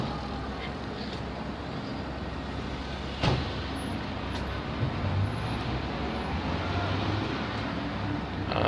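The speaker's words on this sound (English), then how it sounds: "Buses are jamming." Dense city traffic noise in Guangzhou with buses stuck in a jam, a steady low rumble of idling engines and passing vehicles, one brief louder clunk or hiss partway through, no talking.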